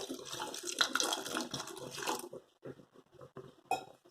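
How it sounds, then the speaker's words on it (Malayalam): Water poured into a pot of white bean and papaya curry, a close splashing pour that runs steadily for about two seconds and then stops, followed by a few faint clinks. "സ്വല്പം കൂടി വെള്ളം ഒഴിക്കാം."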